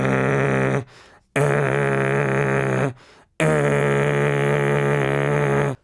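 A voice demonstrates a false-chord metal scream exercise in three long, rough, growling bursts separated by short silences, loud and close.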